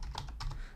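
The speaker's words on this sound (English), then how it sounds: "So let's go ahead and type" Quick keystrokes on a computer keyboard tap out in a short burst of soft, close clicks, quiet and alone.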